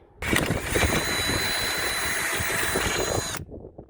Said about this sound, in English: With some coaxing and some WD-40 as a lubricant and a coolant, hopefully I can make this work.